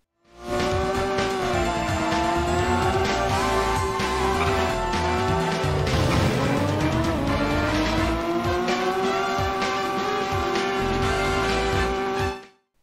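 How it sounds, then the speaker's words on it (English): Race car engine from a PlayStation 1 budget racing game in the Simple 1500 Series screeches loudly at high revs for the whole stretch, its whine sliding in pitch with shifts, mixed with tire squeal and game sound effects. "The sound is passable, ranging from ear poison at full revs"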